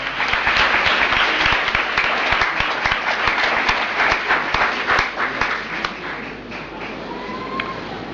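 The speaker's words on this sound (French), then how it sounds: "Je voulais vraiment que nous lui donnons aussi une acclamation pendant qu'elle se lève, pour qu'on la voie." A seated audience applauds warmly for a woman guest as she rises, with dense, sustained clapping that thins and softens toward the end.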